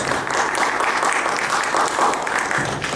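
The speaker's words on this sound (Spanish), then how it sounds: "ya lo recibimos con un fuerte aplauso" A seminar audience claps to welcome an economist speaker, a dense and loud round of applause that holds steady for about three seconds, with no voices over it.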